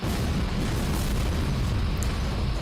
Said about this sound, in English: there comes the orbital laser